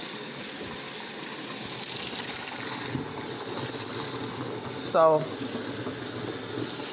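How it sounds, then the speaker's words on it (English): Water runs steadily into a washing machine drum as a constant rushing hiss, with a brief clank near the end and a voice speaking a word over it. "I done did 3 minutes of me just showing you running water in the darn machine"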